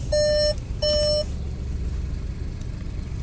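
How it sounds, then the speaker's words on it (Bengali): Two sustained electronic warning tones from a car's seatbelt reminder, each about half a second long with a short gap between, sounding clearly over a low idling engine rumble inside a Toyota or Suzuki being test-driven. "এটা কোথায়, ওই যে বেল্টের জন্য মনে হয় আওয়াজ হচ্ছে না?"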